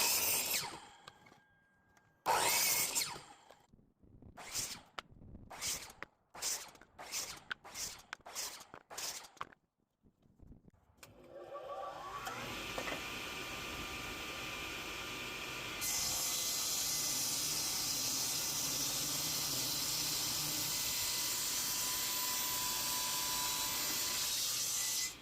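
Badly twisted wood being cut into fresh railroad ties: a series of sharp, spaced bursts, then a power saw that starts up and runs loud and continuous, rising a notch partway through, with no one talking.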